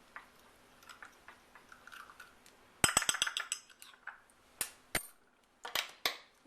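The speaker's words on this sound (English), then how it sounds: "And then just stir it around in the melted butter" Garlic powder stirred into melted butter in a bowl with a utensil: quiet at first, then a run of sharp clinks and scrapes against the bowl, close by and alone.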